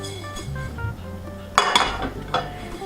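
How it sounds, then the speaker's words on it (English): Granola being tossed and stirred in a pan on a stovetop to roast, with scraping and clinking of a utensil against the pan, a burst of rattling clatter in the middle, then quieter stirring. "So I'm going to keep on tossing it to give it an even roast."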